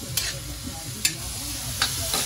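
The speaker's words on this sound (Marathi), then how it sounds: "कांदा तांबडा थोडासा शिजला पाहिजे." Onion frying in a pan for paneer bhurji, a steady close sizzle broken by four sharp scraping stirs of the spatula, no talking.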